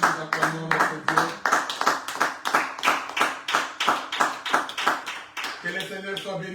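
Congregation in a church clapping together in a steady, loud rhythmic beat, about two claps per second, with music or singing carrying underneath throughout.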